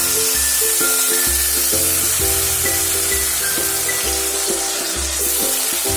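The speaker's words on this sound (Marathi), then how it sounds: "आपण त्याच्यामध्ये आता पालक प्युरी टाकून घेऊ." Spinach puree hits hot tempering in a pan for palak paneer and sets off a steady, close sizzle, with soft melodic tones running underneath.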